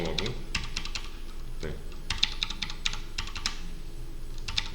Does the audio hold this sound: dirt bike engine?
no